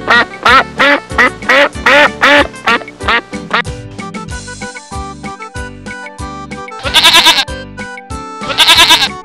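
Loud, repeated nasal honks in quick bursts, followed by sustained tonal notes and two more clusters of harsh calls near the end.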